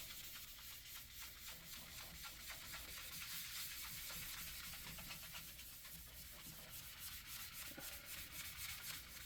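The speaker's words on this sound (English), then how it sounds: "As you're cleaning that, I know you keep rubbing over the same spots." Steady, soft rubbing of a cloth over a bowling ball during cleaning, a faint hissing scrub that keeps going with even strokes.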